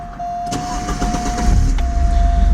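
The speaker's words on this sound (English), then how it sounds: "Listen to that engine purr." A 1985.5 Porsche 944 with 36,410 miles runs at a steady, close idle, a smooth continuous engine hum with a thin tone riding above it.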